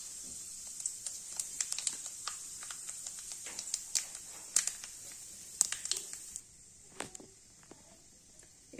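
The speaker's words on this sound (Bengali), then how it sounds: "তেজপাতা ফোড়নে দিলাম আর একটু কালো জিরে ফোড়নে দিচ্ছি।" Bay leaf and black cumin seeds tempering in hot oil left from frying paneer, with scattered sharp crackles and pops over a steady high sizzle that quietens toward the end.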